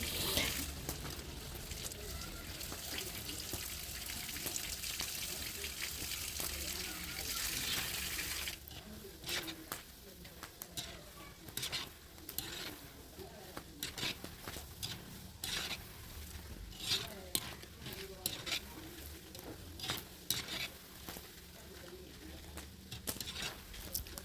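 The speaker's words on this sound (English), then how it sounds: "from time to time you have to keep stirring and don't go too far, because chinchin doesn't fry for too long" Chinchin dough pieces fry in hot oil with a steady crackling sizzle. Partway through, repeated scraping and clattering strokes of stirring break in, close and moderately loud.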